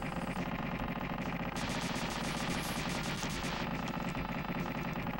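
Rapid retro gunfire from the SNES game Super Earth Defense Force, played on real hardware, rattles continuously in a dense stream of repeated synthesized shots with a brighter burst in the middle, loud and unbroken.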